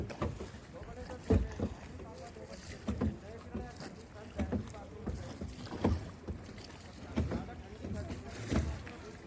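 A small boat moves steadily along a river, with rhythmic knocks and splashes of paddling or hull slaps over a wash of wind and water noise.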